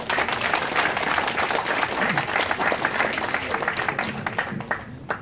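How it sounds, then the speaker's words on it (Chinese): Sustained applause from an audience at an installation ceremony of a Chinese association's executive committee, dense steady clapping from many hands that thins slightly toward the end. "掌声有请。"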